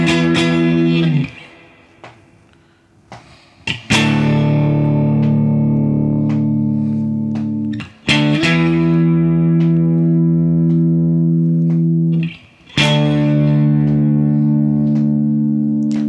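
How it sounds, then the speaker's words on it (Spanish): Electric guitar with a distortion effect playing sustained, heavily saturated chords, a series of loud held notes broken by brief pauses, with no talking. "cambiamos a distorsión"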